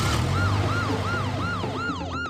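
A cartoon police car siren wails in a steady, repeating rise-and-fall cycle, loud and close over a low engine rumble.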